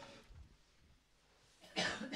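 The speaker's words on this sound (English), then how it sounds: "I've got that nervous cough." A person's nervous cough, a short burst of loud coughing near the end after a stretch of quiet breathing and faint background, close to the mic.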